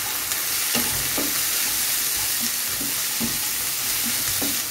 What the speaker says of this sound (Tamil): இப்போ வந்து இதில் நம்ம கட் பண்ண ப்ரோக்கோலியும் சேர்த்துக்கலாம்